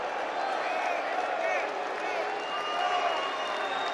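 A large political rally crowd applauding and cheering, a fairly faint, continuous wash of clapping and voices with a few whistles rising out of it.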